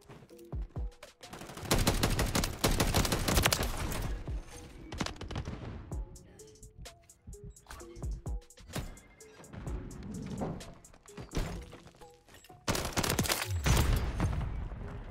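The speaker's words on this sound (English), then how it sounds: "I think the only problem with this gun is actually the fire rate" Sidewinder gun fire in Modern Warfare 3 rings out in loud repeated bursts of rapid shots, separated by short pauses and quieter stretches, with other battle noise around them.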